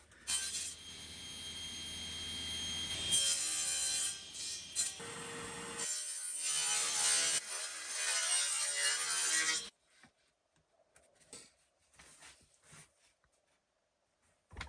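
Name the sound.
sawing wood pieces for cutting boards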